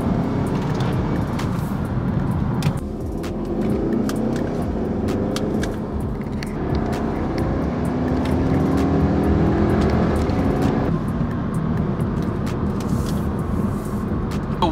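An Audi S3 with paddle shifters being driven, its engine and road noise a steady, close drone throughout with slight rises in pitch as it pulls through the gears, and no talking.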